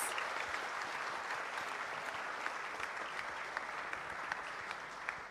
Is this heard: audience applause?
yes